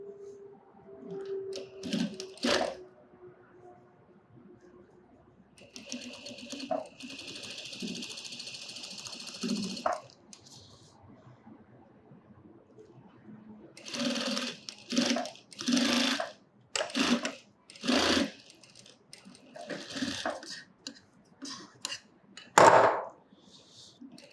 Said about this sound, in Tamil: இப்போது ஐப்பட்டியை தைச்சிட்டோம்